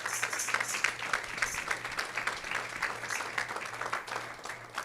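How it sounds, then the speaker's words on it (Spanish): A church congregation applauding for the Lord after a sermon point, steady clapping from a crowd that holds at an even level for several seconds, with a faint low hum underneath. "Denle un aplauso al Señor."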